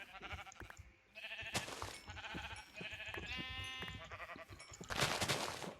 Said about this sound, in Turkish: Koyun bayağı çok varmış ya.